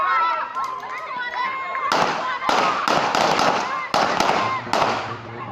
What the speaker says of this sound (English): gunshots ringing out in Fox Hill and screams as nightclub patrons scrabble for their lives